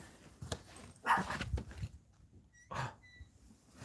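A dog gives a few short barks and whimpering yelps indoors, close to the microphone, in brief bursts with quiet gaps between them.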